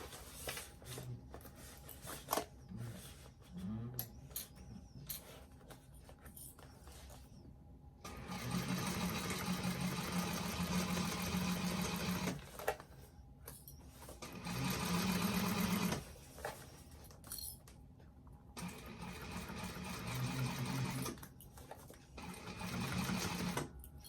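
A sewing machine stitches a seam on a bag in several rapid motorized bursts, with quieter pauses of handling and fabric adjustment between runs, close and with no voices.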